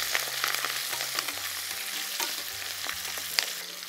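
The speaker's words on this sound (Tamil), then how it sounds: "ஸோ இந்த வெங்காயம் நல்லா வதங்கி வரட்டும்." Onions sautéing in a pan for Madurai kara chutney give a steady, moderately loud sizzle and frying hiss, broken by occasional scrapes and stirring clinks, with no voices.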